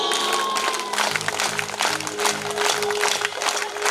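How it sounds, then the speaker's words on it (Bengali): A crowd at a devotional song gathering claps hands together in a steady beat, many palms striking at once in a dense, continuous wash over music and singing. "সকলের দুটো হাত উপরে আর তালে তালে হাততালি যাও"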